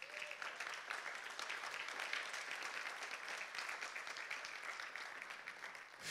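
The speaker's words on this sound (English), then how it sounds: "You've got a hand clap for doing that." A church congregation applauds, a steady, fairly soft wash of many hands clapping that holds for several seconds without a break.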